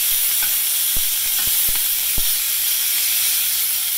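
Big meatballs sizzling in a cast iron skillet, a steady bright frying hiss broken by a few sharp pops and spatters, close and unbroken with no talk.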